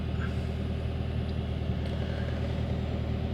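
A 2018 Subaru WRX engine idles after a cold start, a steady, close, low mechanical rumble with an even drone and no change in pitch across the few seconds.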